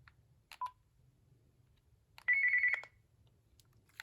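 An old corded/cordless 2-line phone beeps briefly, then gives a short warbling trill, like a ringtone cutting off on a weak battery, in an otherwise quiet room with faint low hum.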